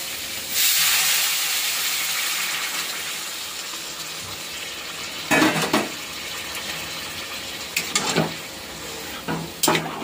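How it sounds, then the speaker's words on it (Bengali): A loud burst of hissing, steaming sizzle as hot water hits fried spice masala in a pan, settling into a steady bubbling hiss with a few sharp utensil clinks and scrapes later on. "এখন গরম জল দিয়ে দেবো, গরম জল করে নিয়েছি।"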